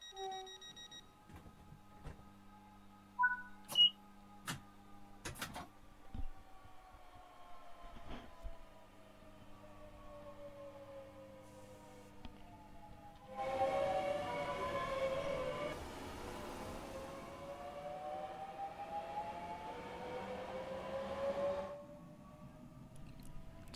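Class 465 electric train motors in Train Sim World 5 whine through rising and falling tones, with sparse clicks and thumps early on, then a louder, denser stretch of layered motor whine in the middle before it eases off.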